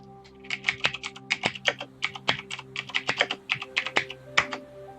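Rapid keystrokes on a computer keyboard during play of the online game Entropia Universe, an irregular run of close, crisp clicks over a steady low hum, with no talking.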